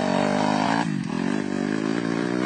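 Motorcycle engine running steadily while riding, a loud continuous drone with a slight dip in pitch partway through, close and unbroken, no voices.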